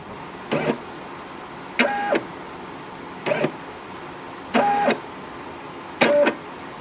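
A Brother SE625 embroidery machine shifts its hoop in five short motorized whirs, each about a quarter second long, spaced roughly a second apart with quiet pauses in between, close up and alone.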